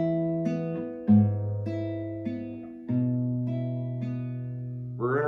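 Classical guitar playing the opening measure of Malagueña in Christopher Parkening's arrangement, plucked notes ringing over sustained low bass notes; close, moderately soft and solo with no talk.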